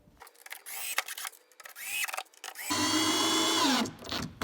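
A cordless power drill drives screws into a skate ledge built from a Slappy Pad kit, with short bursts of whirring followed by one longer sustained run that winds down, close and fairly loud with no talking.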